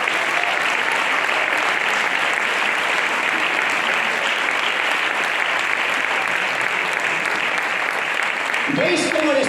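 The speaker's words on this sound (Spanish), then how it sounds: "Fuerte el aplauso." A church congregation claps loudly and steadily for the homeless and needy, a dense, continuous wash of applause that holds for the whole stretch and cuts off abruptly at the end.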